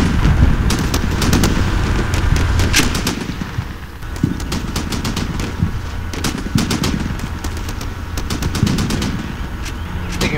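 Combat Mission: Shock Force battle gunfire: dense, continuous bursts of automatic fire and scattered single shots crackle alongside distant rumbling, with no voices over the shooting.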